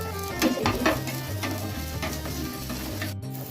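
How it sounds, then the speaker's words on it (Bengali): Mango patishapta batter goes into a hot, oil-brushed pan, giving a steady close sizzle with light scraping and clicking from the pan and utensil, and no one speaking. "কড়া গরম করে তেল হচ্ছে ব্রাশ করে নিয়েছি। এবার হচ্ছে ব্যাটারটা দিয়ে দেবো।"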